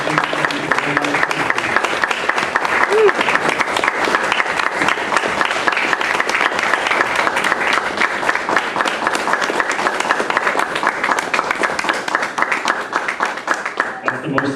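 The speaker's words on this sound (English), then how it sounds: "That's the most sustained applause we've had all day." Sustained audience applause at a candidate forum in Puna, a steady, dense, evenly loud clatter of many hands clapping that runs unbroken for the whole stretch, with faint voices underneath.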